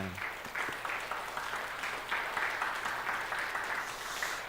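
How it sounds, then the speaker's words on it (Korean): A church congregation applauds with steady, continuous clapping from many hands at moderate distance, even in level throughout. "그분께만 우리 영광의 박수를 돌리도록 하겠습니다"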